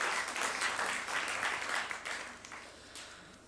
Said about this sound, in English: So get a round of applause for those first questions.